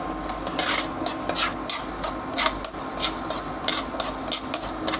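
Coriander seeds, cumin and fenugreek dry roasting in a pan on low heat, with repeated scraping and stirring strokes and a faint sizzle, steady and close with no talking.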